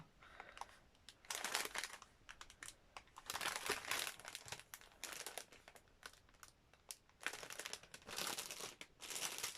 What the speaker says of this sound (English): Super crinkly bag, I do apologise.